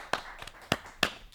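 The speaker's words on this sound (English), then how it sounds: "I'm going to give a round of applause" A few sharp, separate hand claps at an uneven pace, close and fairly quiet, from a person in a kitchen after tasting satay beans on toast.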